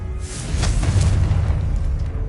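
Confringo blasting spell going off in Hogwarts Legacy, a deep rumbling boom that swells and lingers for a couple of seconds with no talking over it.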